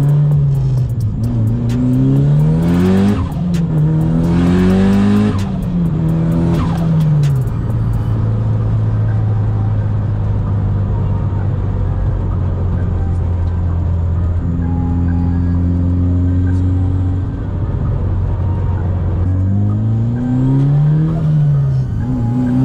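Mitsubishi Lancer Evo 8 driving, its engine droning steadily up close with several rising and falling revs as it accelerates and shifts, loud throughout with no talking.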